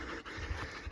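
Dogs pant heavily and fast, close by, a continuous breathy rasp filling the short moment with no voices over it.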